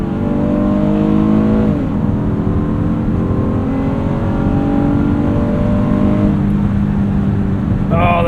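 A 2026 Honda Odyssey Elite's engine revs hard in sport mode after a downshift, a loud sustained drone rising in pitch, dropping briefly, then climbing again, with faint voice under the engine.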